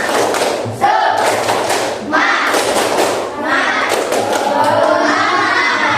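A classroom of elementary school children performs a rhythmic spirit clap, loud close bursts of group clapping and thumping in several rounds, mixed with the children's voices calling out together.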